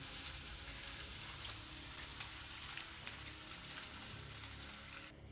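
Fel eggs and ham pieces fry in hot oil in a pan, giving a steady crackling sizzle throughout, fairly faint and unbroken, with no voices.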